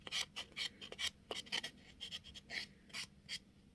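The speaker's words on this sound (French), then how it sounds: "Ils disent qu'il faut limer la surface. Donc on va utiliser quelque chose de plus doux, comme le bloc." Soft nail buffer block filed across a fingernail surface, a quick series of short breathy rasping strokes, close and fairly quiet, with no talking.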